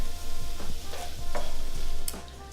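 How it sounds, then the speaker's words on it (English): Food cooking in a pan on medium-low for burgers sizzles softly while a spoon scrapes and stirs in slow, repeated strokes, close by with a light background hum. "we're gonna turn it down to medium-low and keep stirring"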